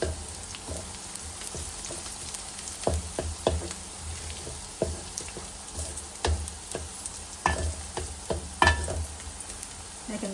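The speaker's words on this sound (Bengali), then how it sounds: "রসুন আর পেঁয়াজটা একটু ভাজা ভাজা করে নিই তারপর মশলা দেবো" Garlic and onion frying in a pan, a continuous close sizzle broken by repeated sharp taps and scrapes from stirring, without any speech.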